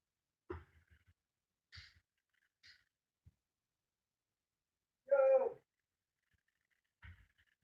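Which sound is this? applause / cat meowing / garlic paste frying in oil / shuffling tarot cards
cat meowing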